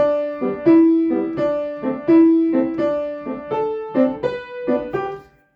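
Piano playing Carl Kolling's Flying Leaves, Op. 147 No. 3: a steady run of clear, separate notes and chords with a soft-loud pattern of melody tones, close and alone with no talking.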